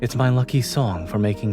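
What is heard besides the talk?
No distinct noise like a dog, phone or traffic.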